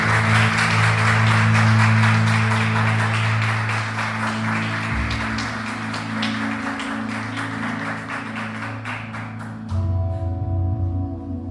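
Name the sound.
congregation applauding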